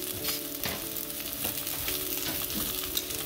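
Large, thick pieces of salmon fry in a pan with a continuous crackling sizzle, steady throughout with small pops and stirring noises.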